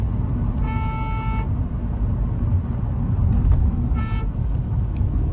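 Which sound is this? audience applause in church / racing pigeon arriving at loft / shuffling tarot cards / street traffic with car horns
street traffic with car horns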